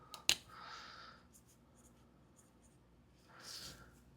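A pen scratches across paper in two short bursts of writing, one near the start and another toward the end, separated by a quiet pause, with a sharp tap just before the first stroke.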